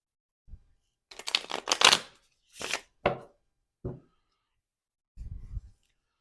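A deck of cards is shuffled up close in several quick riffling and tapping bursts separated by short pauses, crisp and fairly loud in a quiet room.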